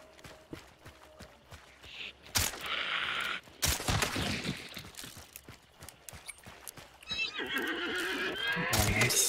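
In the game Hunt: Showdown, horses neigh and whinny amid clip-clopping hooves and bursts of gunfire, the loud shrill calls rising over a busy, noisy game soundscape.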